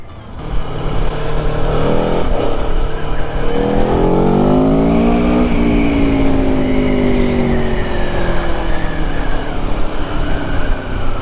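Engine of a 2021 Aprilia Tuono 1100 Factory motorcycle on the move, a loud, close roar that rises through the revs with gear changes, over constant wind rush.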